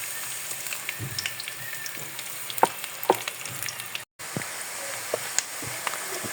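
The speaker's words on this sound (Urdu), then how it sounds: "پیاز ہمارا اچھی طرح فرائی ہو گیا۔" Chopped onion fries in half a cup of oil in a pan, with a steady close sizzle and scattered crackles and pops throughout.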